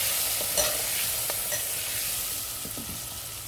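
Ground spices, namely salt, coriander powder, red chili powder and turmeric, sautéing in a pan for a Sindhi drumstick curry, with a steady close sizzle and light stirring taps.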